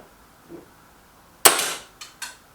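A single sharp, loud crack from a Remington T-Rex rifle fired at big and small red ring targets, trailing off quickly, then two shorter, fainter knocks as the shots land.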